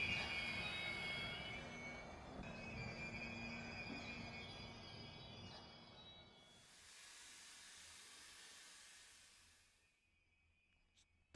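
An Indian express train in Train Simulator slows to a halt at a station platform: broad rumbling and hissing with a steady tone, quieting after about six seconds into a softer hiss, then near silence at the end.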